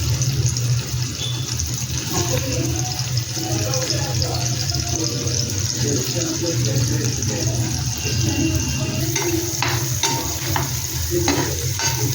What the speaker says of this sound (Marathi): आता त्याच्यामध्ये उभा चिरलेला कांदा परतून घ्यायचा